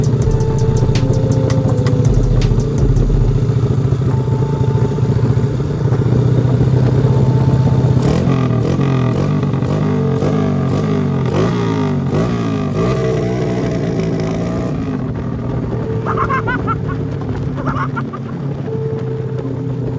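A Honda Supra motorcycle engine running close by with a loose throttle cable, a loud, rough, uneven drone with rattling clatter and shifting revs, easing slightly toward the end.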